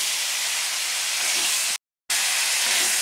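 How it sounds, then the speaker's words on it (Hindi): Mutton roasting in a kadhai for a Punjabi kadhai mutton, giving a loud, steady broadband hiss that holds without break except for a brief silent gap partway through. "अब ये बहुत अच्छी तरह से भून रहा है।"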